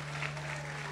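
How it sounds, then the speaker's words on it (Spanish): Applause from a church congregation during a Sunday worship service, a steady continuous patter of many hands heard over a low constant hum, with faint voices mixed in. "Dale un aplauso si le va a aplaudir al Señor."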